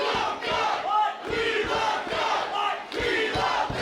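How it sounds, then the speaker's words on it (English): A wrestling crowd at a live match roars and cheers in loud, continuous surging waves, with bursts of chanting and shouting swelling and dipping throughout. "You can hear this crowd getting behind Love Doug"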